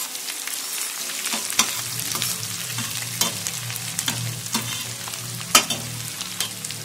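Onions frying in a pan for Punjabi bhindi sabzi, stirred with a spoon: a constant sizzling hiss punctuated by irregular clinks and scrapes of the spoon against the pan, close and clear, with no talking.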